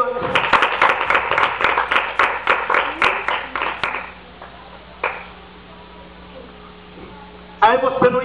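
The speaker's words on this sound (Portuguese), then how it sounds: "Dá uma salva de palmas para Jesus nessa noite." A church congregation claps in rhythmic unison during an evening worship service, a loud, steady beat of hands for about four seconds that fades into quiet room tone, with a brief burst of voices at the end.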